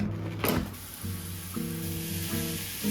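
Food sizzles steadily in a hot pan on the stove while a utensil stirs and scrapes a few times.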